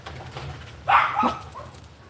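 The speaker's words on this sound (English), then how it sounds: "It was a dog next door getting the squirrel up onto the fence." A dog next door barks at a squirrel up on a fence, giving a quick pair of sharp, somewhat distant barks or yelps over low background hum.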